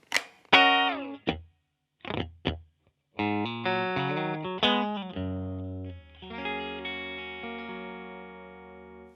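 A Fender Stratocaster played on the neck pickup through effects rings out single notes and then a sustained chord, clean to lightly driven with chorus shimmer and a long decaying tail, close and without talk.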